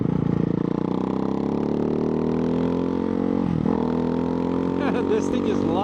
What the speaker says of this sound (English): This thing is loud. That's Termioni exhaust, but it sounds like they removed the catalyst